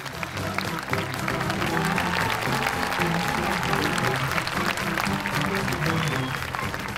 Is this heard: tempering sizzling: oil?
no